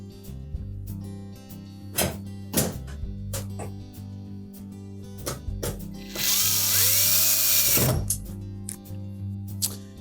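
A power drill drives screws into a Whirlpool range panel during insulation replacement. A loud whirring burst of about two seconds stands out among scattered knocks and thunks of metal handling.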